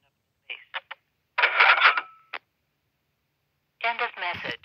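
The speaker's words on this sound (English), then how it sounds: "Here's how it sounds when it changes the channel." A Uniden EXP7900 900MHz analog cordless phone changing channel, giving a few short electronic blips and a burst of garbled, voice-like noise, then another garbled stretch after a pause.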